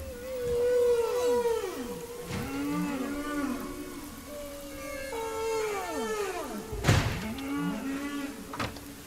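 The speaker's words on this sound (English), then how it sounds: "It's the song of the humpback whale." Humpback whale song plays clearly: a run of long, sweeping moans and rising and falling calls, loud and close, repeating in phrases with a few sharp bursts near the end.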